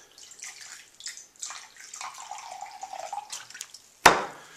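Vinegar pours into a measuring jug with a light liquid trickle and splash, followed by a single sharp, louder splash or clatter near the end, heard up close with no talking.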